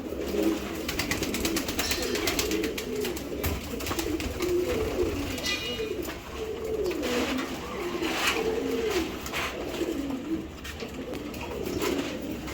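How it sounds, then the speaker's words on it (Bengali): Racing pigeons, A-grade club birds of foreign stock, coo in a low, throaty, repeated rolling rhythm throughout, fairly close and steady with a busy loft background. "আলহামদুলিল্লাহ এ গ্রেডের একটা কবুতর"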